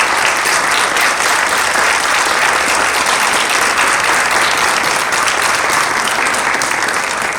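An audience gives loud, sustained applause after a presentation on the water impacts of industrial limestone extraction, a dense, even wash of clapping from start to end.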